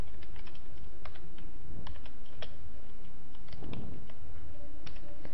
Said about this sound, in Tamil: ஸோ நான் ஒரே ஒரு ஸ்பேஸ் கொடுத்து அங்கே என்ன இருக்கோ அதை ஃபுல்லாக டைப் பண்ணுறேன்